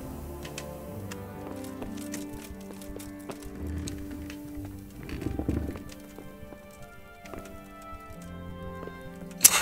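Horse hooves clip-clopping on the ground in Kingdom Come: Deliverance, soft irregular steps at moderate distance with light background ambience and a sharper knock at the very end.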